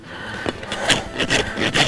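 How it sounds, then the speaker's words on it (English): A hoof rasp scrapes across a young mare's hoof during a trim to flatten and level it, in a quick series of close, gritty rubbing strokes with no talk. "we're mostly just gonna trim this foot nice and flat and smooth and level"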